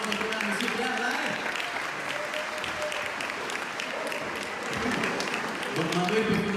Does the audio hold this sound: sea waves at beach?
no